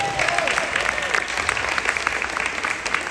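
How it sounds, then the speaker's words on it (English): A crowd at a 2024 CIFLA ring ceremony applauds: steady, full clapping from many hands that fills the whole moment, with a voice briefly audible over it at the start. "So give them a round of applause."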